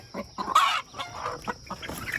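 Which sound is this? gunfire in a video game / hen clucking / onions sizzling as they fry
hen clucking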